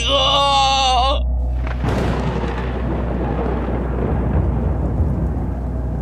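A loud thunderclap breaks after a short musical tone, then heavy rain pours steadily and evenly for several seconds, dense and close, with low rumbling beneath.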